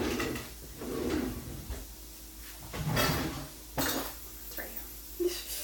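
Utensils and cookware clatter and scrape as someone rummages through a kitchen drawer looking for a spatula, with bursts of clinking metal and drawer knocks, close and moderately loud, plus faint background talk.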